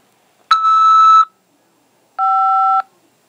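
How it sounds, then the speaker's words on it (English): Two loud, clean telephone keypad tones sound one after another, each lasting under a second with a short silent gap between them, pressed to accept an incoming call from a corrections facility. "press 5 to accept this call"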